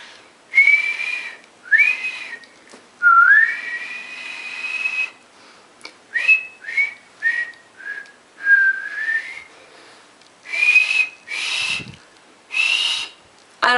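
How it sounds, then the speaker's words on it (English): A person with Bell's palsy whistles a series of short rising and wavering notes, about a dozen brief phrases separated by small pauses, close and clear with no other sound. "Oh, I gotta finish off with the whistle."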